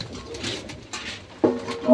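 Satin pigeons coo softly nearby in a low, throaty burst toward the end, set against faint background noise and light rustling.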